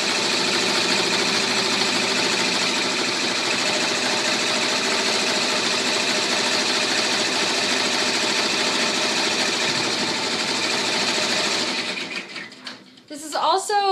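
An embroidery machine stitching out a troll girl applique, a loud, steady, rapid mechanical whir and needle clatter running for about twelve seconds before winding down, followed by a few brief sounds.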